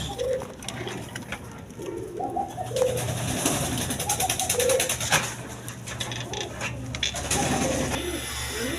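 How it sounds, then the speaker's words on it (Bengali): A pair of yellow Gorra pigeons coo in several separate rolling calls over a steady background hum and clatter, close and moderately loud, with no speech. "এখানে এক পেয়ার গররা কবুতর আছে হলুদ কালার দেখেন"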